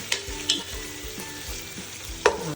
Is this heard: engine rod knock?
no